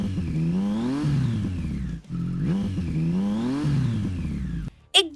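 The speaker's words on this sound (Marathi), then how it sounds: "तसा तिने बाईकचा ऍक्सिलरेटर रेस केला." A motorbike engine revs hard twice at a race start line, rising and falling in loud, close, whining bursts that cut off abruptly near the end.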